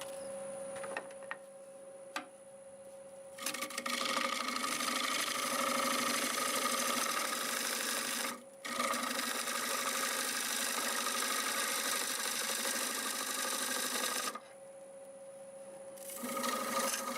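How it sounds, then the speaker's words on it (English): Wood turning tool being sharpened on a powered grinder, a steady continuous grinding rasp over a running motor hum that holds for about eleven seconds, with a brief dip midway before quieter motor hum. "I think it's time to sharpen up."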